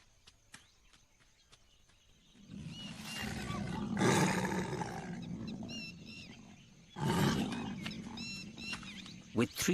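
A tiger, probably a male, roars somewhere in a wild forest park, deep throaty bursts rising twice to loud peaks amid ambient rustle, distant bird calls and other animal sounds.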